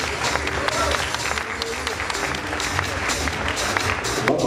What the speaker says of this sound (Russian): Под аплодисменты зрителей